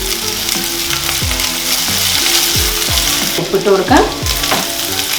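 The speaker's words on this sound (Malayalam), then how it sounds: "ഇതെല്ലാം കൂടെ ഒന്ന് എണ്ണയിൽ കിടന്നൊന്ന് സോഫ്റ്റ് ആക്കേ" Onions, green chilies and ginger-garlic paste sizzle steadily in hot oil, with repeated spoon scrapes stirring the pan and a brief spoken remark over the frying.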